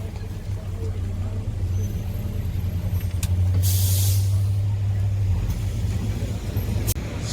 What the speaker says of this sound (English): Please do wait for the bus to come to a complete stop